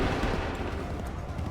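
A musket volley fires in Assassin's Creed 3, a dense burst of gunfire that fills the short moment with a continuous rumbling crackle and no pause.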